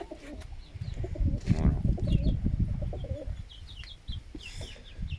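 Low, throaty coos from Cauchois pigeons rumble close by amid scattered bird chirps and shuffling noise, without any talking.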